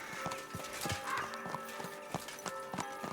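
Horse in the video game Kingdom Come Deliverance 2, with steady clip-clopping hooves in a regular walking rhythm and a short neigh partway through, over a quiet background tone.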